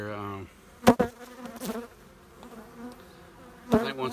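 Defensive honeybees buzzing around a vacation house during a hive removal, with a few sharp loud buzzing passes close by over a quieter, steady insect drone.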